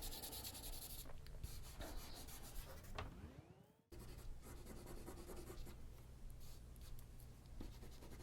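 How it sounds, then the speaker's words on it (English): Eraser rubbing across charcoal on drawing paper during shading, a steady close scratchy friction with a brief pause near the middle, then continuous rubbing again, no talking. "I will pull that reflected light back out with an eraser."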